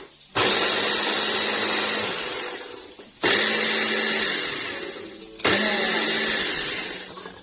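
A blender beating a hawawshi filling mixture in a home kitchen, three loud whirring bursts each starting abruptly and slowly winding down between pauses, close and without talk.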